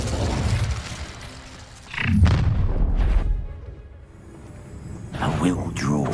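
An Incendio fire spell in the video game Hogwarts Legacy bursts with a deep booming whoosh, followed by a rumbling blast and a second surge, with game voices over it.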